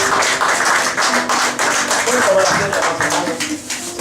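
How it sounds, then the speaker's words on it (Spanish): Church congregation clapping for the Lord during a Spanish-language evangelical service at Bethel church in Lima: steady, dense clapping lasting the whole stretch, mixed with voices and a faint sustained tone. "Denle un aplauso a nuestro Señor."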